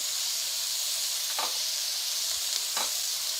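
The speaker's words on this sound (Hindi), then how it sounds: "साथ में ये भी फ्राई कर लेंगे।" Chicken and vegetables frying in a pan for chicken vegetable pasta, a steady soft hiss and sizzle throughout, with two brief scraping stirs and no talking.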